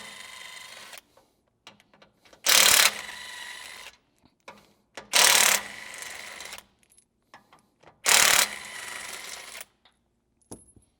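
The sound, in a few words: 17mm socket wrench removing receiver hitch bolts on a 4Runner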